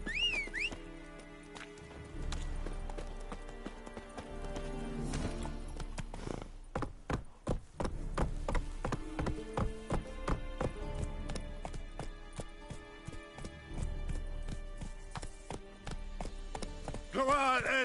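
Roach the horse galloping in the video game Witcher 3, with steady rhythmic hoofbeats running through most of the stretch, fairly close, amid game ambience and occasional music tones.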